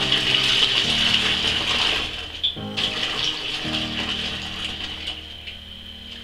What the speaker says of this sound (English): the only thing left to do now is to top this up with cold water